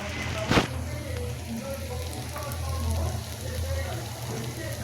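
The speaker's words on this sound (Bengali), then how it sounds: "এখন সবগুলো পকোড়া এভাবে ভেজে নেব।" Cauliflower pakoras frying in hot oil over a lowered flame, a soft continuous crackle and sizzle with a brief sharp clatter near the start and a low hum beneath.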